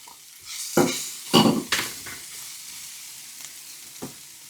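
Carrot, potato and other vegetables fry in a pan and get stirred, with a few loud scraping, sizzling bursts up close and then a softer hiss with one more light stir near the end.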